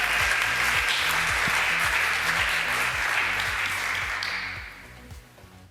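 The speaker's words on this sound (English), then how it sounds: "please, warmest and biggest round of applause" A large conference audience gives a sustained, dense round of applause for the closing keynote speaker, loud and steady at first, then thinning and fading toward the end.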